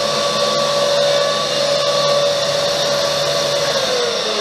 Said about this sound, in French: J'arrête l'aspirateur